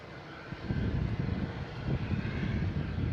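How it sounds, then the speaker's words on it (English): A Cape Air Cessna propeller plane arriving from Nantucket at Boston Logan gives a moderate, steady engine drone that builds slightly after the first half second and holds at a fairly distant level. "we got a Cape Air coming in from Nantucket"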